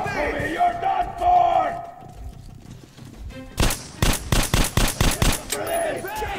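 Rapid bursts of gunfire in the video game Metro Last Light, a loud run of sharp, evenly spaced shots in the second half, following a stretch of shouting and game noise.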